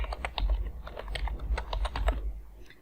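A phone number is typed on a computer keyboard, with quick, steady key taps in a close, continuous run over a low background hum, easing off at the end.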